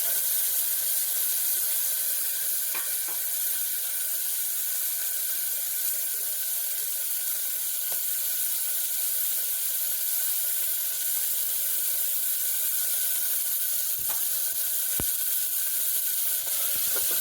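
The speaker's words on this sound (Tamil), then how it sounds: "கடுகு ஜீரகம் பொரிஞ்சோடனே வெங்காயம், பூண்டு, பச்சை மிளகாய்," Onion, garlic and green chili sauté in a pan with mustard seeds and cumin, a soft, even hiss and sizzle running steadily throughout with a few faint ticks and pops, nobody speaking.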